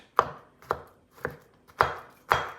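Knife chopping olives on a cutting board while making Sicilian stuffed calamari: five sharp, evenly spaced chops, close and clear, with no talk.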